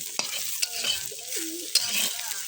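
Okra frying in a pan is stirred, giving a soft sizzle with a few sharp scraping clicks of the utensil against the pan.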